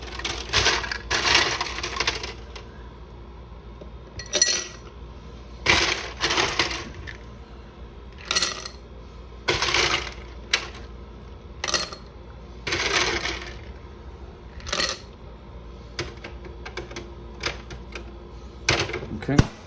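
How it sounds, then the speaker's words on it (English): An Igloo ice maker drops ice into a glass in a kitchen, giving repeated bursts of clattering, crunching cubes separated by short pauses, close and fairly loud, with some talk between them. "I'm gonna come into the igloo ice maker."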